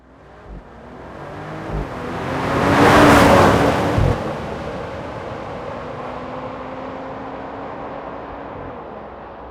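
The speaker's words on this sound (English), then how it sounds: "and they even have a drive-by clip." Mercedes-AMG CLE53 passing by outside, engine note swelling as it approaches, peaking loud near the middle with a brief rev, then fading steadily into the distance; no talk.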